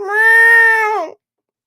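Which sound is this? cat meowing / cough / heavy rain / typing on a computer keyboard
cat meowing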